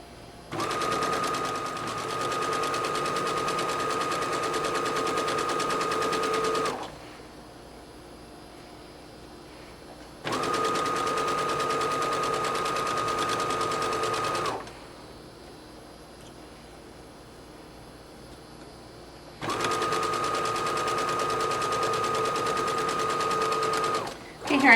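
A sewing machine stitches a fabric mop cap in three steady bursts of several seconds each, separated by quiet pauses as the sewer stops to reverse and remove pins.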